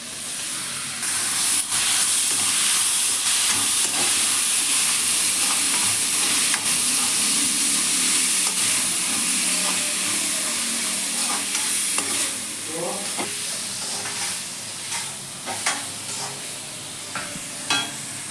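Chopped tomato fries in hot oil for a fenugreek leaf gravy, a loud bright sizzle and hiss that eases after the first dozen seconds, broken by scraping stirs of a spoon against the pan.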